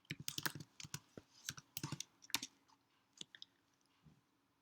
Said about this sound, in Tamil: டெர்மினலில் வந்துட்டு நோட் ஸ்பேஸ் -vன்னு டைப் பண்ணி என்டர் பண்ணுங்கள்